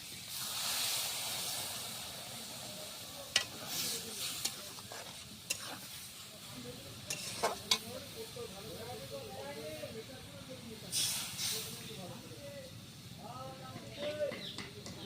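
Water poured into a sautéed mixture in a pan, giving hissing sizzle and bursts of steam with scraping stirs, at moderate level with a voice talking in between.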